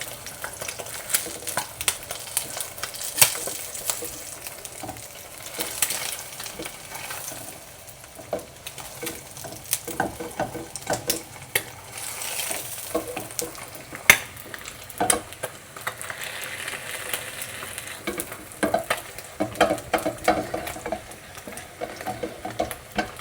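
Eggs cooking in pan juices, with a steady soft sizzle and frying crackle plus intermittent scraping and stirring clicks of a utensil against the pan, continuous and fairly close.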